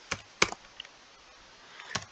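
A few sparse, quiet keystrokes on a computer keyboard while an nmap command is entered on a Linux machine, with clicks clustered near the start and again near the end and a pause between them.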